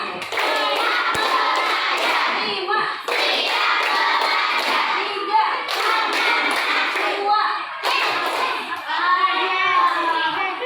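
Children in a classroom clap out a rhythmic counting game of five claps, repeated in quick bursts of crisp handclaps with a crowd of young voices chanting along between rounds.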